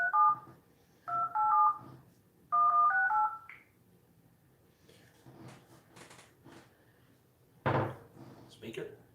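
Telephone keypad tones beeping in three quick bursts of several dual-tone presses each, close and fairly loud, followed by quieter rustling, a door-like thump and brief speech.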